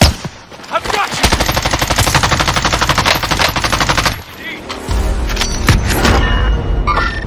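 Automatic weapon fire in Call of Duty Warzone: long loud rapid bursts, a short pause, then more shooting and scattered impacts, close and heavy, with a brief voice partly under the shots.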